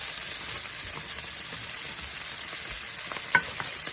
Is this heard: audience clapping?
no